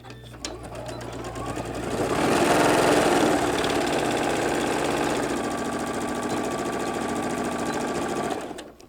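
A sewing machine stitches the center seam of a bag pocket, a steady fast whirring buzz that starts after a short pause, runs evenly for several seconds and then stops.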